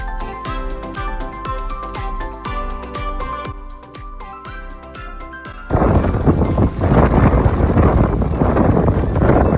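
Strong wind at a sailboat anchorage on the Gulf coast ahead of a storm with near 35 mph gusts, heavy roaring buffeting that surges loud after a stretch of music, no talk.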